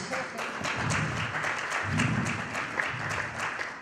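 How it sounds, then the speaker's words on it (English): An audience at a government project tracking report launch gives sustained, moderately distant applause, an even wash of many hands with a faint low rumble underneath. "Please give us a round of applause."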